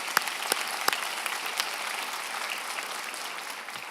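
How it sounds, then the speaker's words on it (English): Graduation ceremony audience applauding at a technical college convocation, dense clapping from a large crowd with a few sharp nearby claps early on, steady and sustained, gradually easing. "Let's give them another round of applause."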